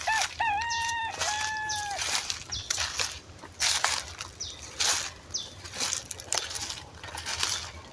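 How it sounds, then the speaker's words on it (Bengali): Chicken or jungle fowl crowing in a Malaysian jungle, one clear crow near the start followed by fainter distant calls, over constant insect and forest ambience with footsteps crunching through undergrowth. "মুরগিটা দেখার আশায় আসলে এত দূর চলে আসলাম। কোথায় যে ডাকতেছে"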